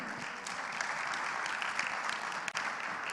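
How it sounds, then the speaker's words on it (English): Steady, fairly distant applause from an audience at a plastic pollution conference event, a dense even wash of clapping that carries on throughout without speech. "let us give the biggest round of applause for everyone here"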